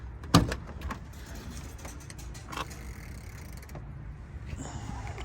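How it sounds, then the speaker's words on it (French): A heavy car door is opened with a sharp mechanical clunk of the latch, followed by faint creaks and movement against quiet background, with no talk. "Cette porte, elle est incroyable."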